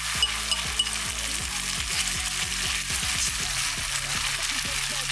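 Beaten eggs hit a hot pan and sizzle loudly and steadily, with crackling spatter and a few clicks of stirring. No one speaks.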